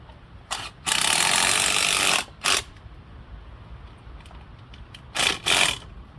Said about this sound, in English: With the impact driver, don't go too hard on them because it'll go straight through that plastic backing board